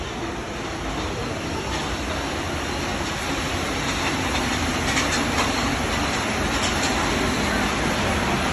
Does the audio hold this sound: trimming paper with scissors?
no